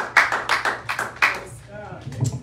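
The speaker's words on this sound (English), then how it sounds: "Come on, give her a round of applause this morning." Scattered claps from a church congregation during a worship service, a few uneven bursts of clapping with voices and room noise mixed in, moderately loud and fairly close.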